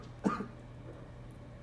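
A single throaty cough from an ill person, quick and moderately close, with a fainter second burst a moment later and another starting at the very end, over a quiet room background.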